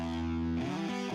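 A sustained guitar chord run through a saturation plugin sounds thick and distorted with rich overtones, shifting to a new chord partway through and ringing on to the end.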